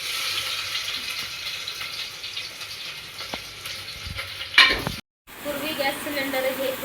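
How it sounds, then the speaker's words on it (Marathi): Garlic and onion dropped into a hot pan in a home kitchen, giving a steady close sizzle of frying with a brief clatter of stirring, then a short cut before the sizzling resumes. "आता मी थोडंसं लसूण घालून घेणार ह्याच्यामध्ये."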